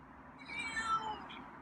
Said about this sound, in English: Why are you meowing over there?